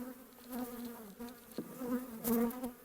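Honey bees buzzing at an open beehive while brood frames are being worked, a steady dense droning hum with individual bees flying close past, moderately quiet and without talk.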